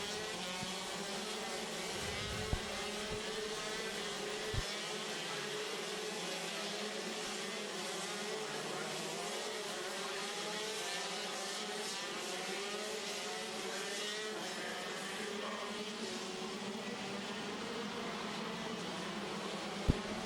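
Senior-class shifter karts race around a track at a 2014 Rok Cup USA event, their small two-stroke engines blending into a continuous high, buzzing drone that holds steady throughout with no talk.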